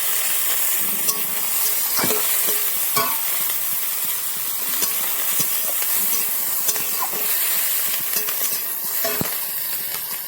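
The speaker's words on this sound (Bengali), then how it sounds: "ভাজা ভাজা করে নিয়ে নেবো।" Fish in mustard paste fries in a pan with chopped green chilli, a steady close sizzle and hiss running throughout with occasional clicks of stirring.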